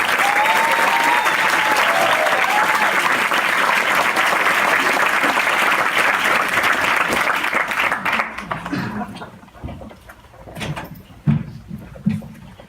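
A bookstore audience at Book People applauds to welcome Dr. Michael Greger, a dense, loud wash of clapping that holds for several seconds, then thins into scattered, uneven claps and a few bumps before dying away.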